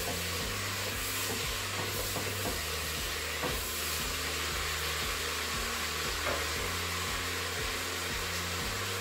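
Chilli seasoned with smoked paprika is stirred in a pan, a steady loud sizzle and hiss running throughout with faint scrapes of the spoon underneath.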